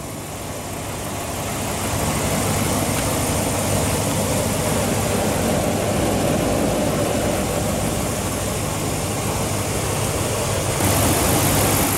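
A 2013 Ram 1500 pickup with a 5.7 L Hemi V8 idles with a steady low rumble, swelling slightly in the first seconds and then holding an even, close drone.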